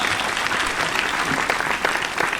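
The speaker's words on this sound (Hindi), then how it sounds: "एक बार यहाँ से वहां तक दोनों हाथ खड़े करके तालियां बजाइए।" An audience claps at a Hindi comedy poetry gathering (hasya kavi sammelan), dense continuous applause filling the room for a couple of seconds, close and loud.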